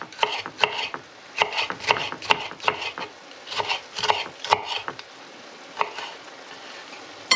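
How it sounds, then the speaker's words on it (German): A red pointed pepper is sliced for goulash on a cutting board, a run of crisp, closely spaced knife taps in uneven bursts, fairly close, with a brief pause before a final few cuts. "kann ich mein Gemüse derweil schneiden"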